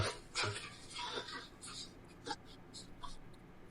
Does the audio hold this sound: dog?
yes